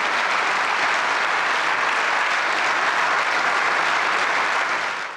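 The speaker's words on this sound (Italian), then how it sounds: "Tutti in piedi, tutti compunti ad applaudire questa mattina a Palazzo Madama" Senators on their feet applaud Liliana Segre in Palazzo Madama, the Italian Senate chamber: sustained, dense applause from a large room, steady and loud throughout, with no speech over it.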